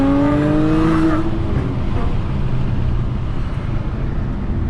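Hard acceleration from a tuned 2014 Audi A6 with APR tuning: a loud engine note climbing steadily in pitch for about a second, then a sustained broad roar as the car pulls away, with no talking.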